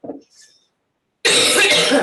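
A single short cough close by, then after a pause a loud, steady rushing noise fills the rest.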